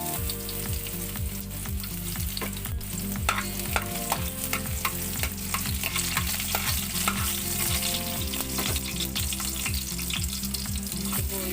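Garlic sautés in hot cooking oil for ginisang upo with ground pork, a steady loud sizzle with rhythmic stirring scrapes running throughout, close and without talk.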